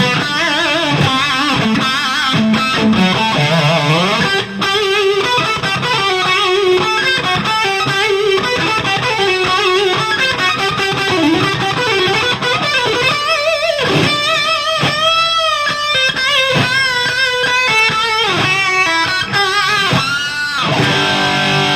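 Electric guitar with heavy distortion playing a famous classical melody, a continuous sustained lead line of bending, ringing notes throughout.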